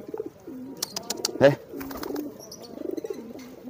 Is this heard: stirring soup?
no